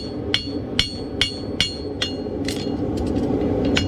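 Metal hammer blows from the hammer's heel ring out on hot steel while shaping a horseshoe clip, about a dozen sharp strikes, evenly spaced at first and then quicker and lighter, over a low shop hum.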